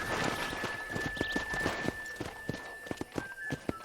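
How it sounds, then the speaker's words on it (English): Horse hooves clip-clop steadily in Red Dead Redemption, a quick, even walking rhythm close by and fairly quiet, over a low steady hum, with no talk. "I picked out a fine horse for you."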